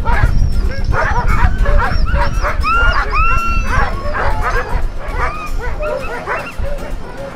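Sled dog mixes in Churchill, Manitoba, bark, yip and whimper together in a loud, continuous chorus of overlapping calls, close by and without a break.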